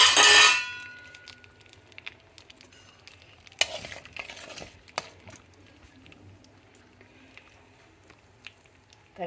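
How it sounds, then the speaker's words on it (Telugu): Gongura leaves stirred and dry-fried in a pan, with a loud burst of scraping at the start, then soft intermittent sizzling and occasional sharp utensil clicks against the pan. "గోంగూరని శుభ్రంగా కడిగి పొడి బట్టలో బాగా తుడుచుకొని తర్వాత ఎండలో ఒక 5 నిమిషాలు ఆరబెట్టి"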